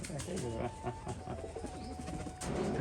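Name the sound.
pigeons cooing in a loft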